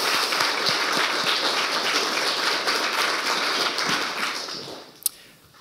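An audience at a youth council and youth parliament results event gives a steady round of applause that gradually thins and fades, ending with a single sharp knock.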